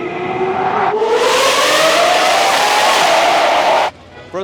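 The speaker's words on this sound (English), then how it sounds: "That's where everyone goes through to hear their exhaust." A car's exhaust roars through the 3rd Street tunnel in downtown Los Angeles, a loud rising rev with echoing reverberation that swells for about three seconds and then cuts off abruptly, with a short spoken word near the start.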